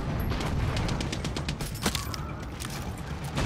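A tank fires in the Far Cry 6 co-op shooter amid dense, continuous gunfire and battle noise, with a few sharp cracks and booms standing out over the steady roar.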